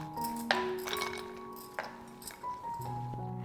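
Fresh ice cubes clink into a glass with two cups of water for mint lemonade, a few bright ringing taps and rattles scattered over a few seconds, close and fairly loud.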